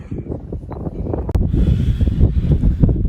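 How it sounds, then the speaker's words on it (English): Strong wind gusts across a cold mountaintop, buffeting the microphone in a loud, rough, continuous rumble that swells and dips with each gust. "The winds have been gusting the entire time we've been here"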